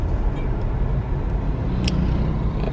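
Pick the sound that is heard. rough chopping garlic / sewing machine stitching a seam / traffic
traffic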